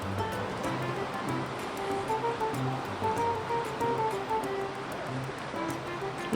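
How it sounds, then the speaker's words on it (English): Whitewater rapids rush near a campsite in the Smoky Mountains, making a continuous broadband roar of churning water that stays steady throughout, with no voices over it. "There are some whitewater rapids around this area."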